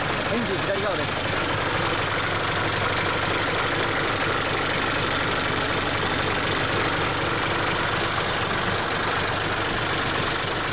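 Steady close idle from the left side of the 7.2-litre non-turbo diesel engine in a 1999 Isuzu Forward high-block truck, a constant rough rumble with knocking character throughout.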